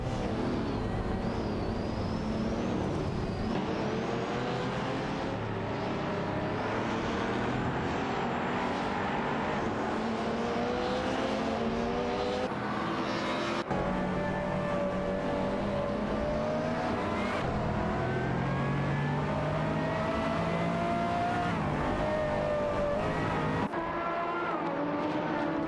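A Koenigsegg race car in an AI racing game holds a loud, continuous engine note that climbs and falls through shifts, with a brief dip mid-run. No one talks.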